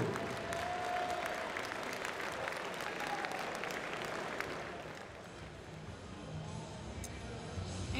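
Loud applause from an MMA event crowd with some cheering, sustained and fading slightly toward the end.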